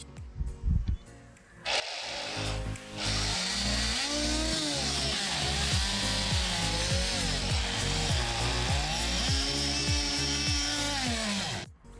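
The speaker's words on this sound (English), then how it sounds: "I borrowed from a friend a rigid oscillating tool with a rigid scraper on top, and it works so much better." A Ridgid oscillating tool fitted with a rigid scraper blade buzzes steadily as it scrapes old glue from teak slats in a Beneteau First 310 cockpit, a close, continuous high vibrating whine with wavering pitch after a brief start-up.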